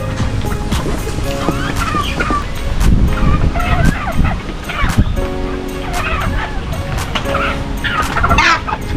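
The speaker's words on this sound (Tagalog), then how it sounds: "ito mayroon din pong pabo" Turkeys gobble in rapid, warbling bursts amid a noisy, busy background, with people talking nearby throughout.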